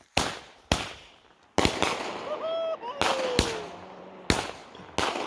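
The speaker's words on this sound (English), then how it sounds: "You're probably not supposed to, like, rattle the fuck out of fireworks." Fireworks set off outdoors near a cabin, a series of sharp loud bangs about every half to one second, with crackling between blasts and brief whistling bursts, as people react in the background.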